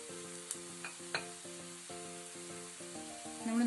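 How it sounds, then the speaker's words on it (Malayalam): Masala being sautéed in a pan for homemade garlic pickle, a soft steady sizzle with a few light scrapes and clicks of a spoon, fairly quiet and close, with a sustained tonal hum running underneath. "1/4 പൊടിച്ച് റെഡിയാക്കി വെച്ചിരിക്കുന്ന മസാല കൂട്ടുന്ന 2 ടേബിൾ സ്പൂൺ മസാലക്കൂട്ട് നന്നായി ഒന്ന് വഴറ്റുക."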